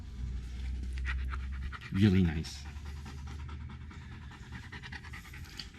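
A dog pants in quick, soft breaths at close range outdoors, with people chatting casually over it and a brief louder burst of voices partway through.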